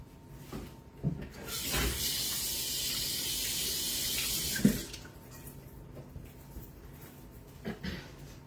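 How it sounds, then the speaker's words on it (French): Running tap water splashes steadily into a sink as hands are washed in a home kitchen during baking. The flow is moderately loud for about three seconds, then stops, leaving faint handling noises. "On se lave les mains"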